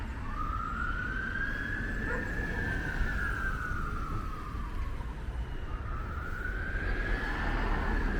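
A fire engine siren wails as it passes in a London street by Chadwell Heath Police Station, its pitch rising and falling in long sweeps above a steady roar of traffic.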